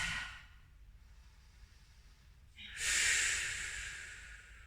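Audible Pilates breathing while hugging the knees to the chest: a short inhale, a quiet pause, then a long, loud, airy exhale through the nose and mouth, close to the mic.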